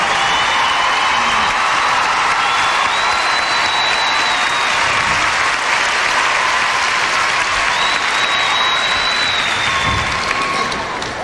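A figure skating arena crowd rises in a standing ovation, dense sustained clapping filling the hall for several seconds with a few faint whistles and cheers riding on top.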